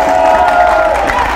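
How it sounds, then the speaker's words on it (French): A studio audience at a television show cheers and applauds loudly in a brief crowd burst, with a sustained tone running underneath. "merci de vous applaudir encore."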